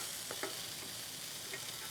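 Soaked chana dal frying in a pan, a faint, even hiss of sizzling oil with a couple of soft stirring clicks, no voices.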